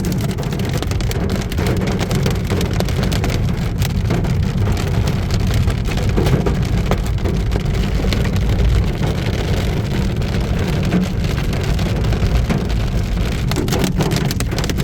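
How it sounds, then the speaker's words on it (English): Heavy hail pelts a car on a road trip through Afghanistan, a dense, unbroken drumming and crackle on the body and roof that stays loud and steady for about fifteen seconds, with no one speaking. "wasn't expecting hail"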